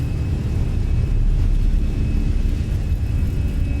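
An Airbus A320 airliner taking off in Microsoft Flight Simulator gives a steady, loud low engine rumble and roar that holds evenly throughout, with no talking.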